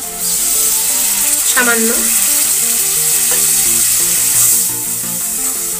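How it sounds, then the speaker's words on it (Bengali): Ghugni masala sizzles loudly and steadily in a pan as hot water goes in, a continuous close frying hiss with stirring scrapes, and a brief word is spoken partway through. "আমি এখানে গরম জল অ্যাড করছি"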